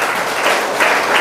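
Congregation in a church service in Palangkaraya bursting into cheering and applause for God, a dense, loud wash of clapping and shouts that swells in waves over about a second, with no distinct speech.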